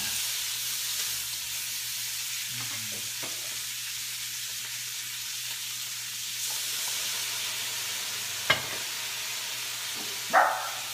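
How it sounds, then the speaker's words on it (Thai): Green peas go into a hot pan and sizzle with a steady, even hiss, broken by a couple of sharp clanks near the end. "ถั่วลันเตาลงไปเลยนะคะ"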